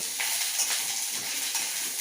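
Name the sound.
sautéing curry leaf chutney ingredients in a pan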